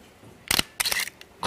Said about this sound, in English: Listen to the shutter.